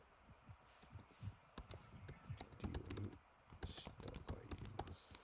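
Keys on a computer keyboard are tapped in quick irregular bursts of clicks, faint and close, over a low hum with no speech.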